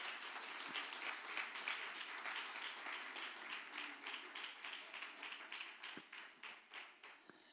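Applause from a lecture audience, a moderately faint round of clapping that starts dense and gradually thins into separate slower claps toward the end.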